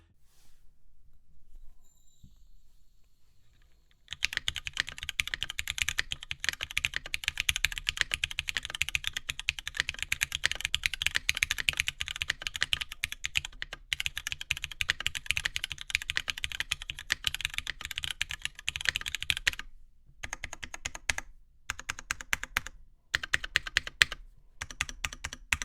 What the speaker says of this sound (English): We always use Cherry MX Black on aluminum plate as a control sound test for all of the boards that we review